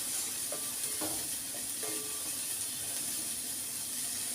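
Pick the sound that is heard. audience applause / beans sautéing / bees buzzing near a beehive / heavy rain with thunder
beans sautéing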